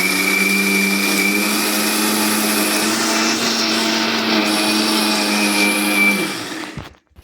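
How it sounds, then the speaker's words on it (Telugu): A mixer grinder blending paneer masala curry paste runs steadily at high speed, a loud continuous whirring drone that winds down and cuts off near the end. "ఇప్పుడు మనం ఇలాగ మిక్సీ పెట్టుకుంటాం"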